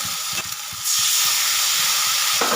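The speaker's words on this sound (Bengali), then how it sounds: "এবার জল দিয়ে দেবো।" Water poured into a hot pan holding mustard and poppy seed paste for a bhola fish jhal curry sets off a sudden loud sizzle that surges and holds steady, following quieter frying with light stirring clicks.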